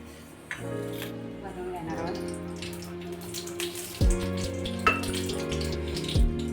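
Water pours steadily into a metal pan for cooking semolina, the pitch of the stream shifting as it fills, with a few clanks of the pan.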